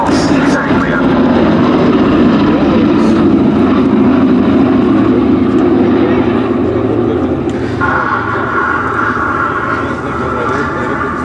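A Boeing B-17 bomber flies at a VE Day anniversary airshow at Duxford, its piston engines giving a loud, sustained propeller drone that holds steady across the whole stretch, with a voice speaking over it.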